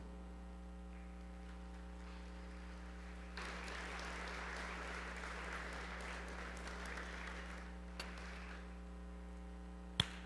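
Soft, distant applause from a church congregation swells for several seconds in the middle and then dies away, all sitting under a constant low electrical hum.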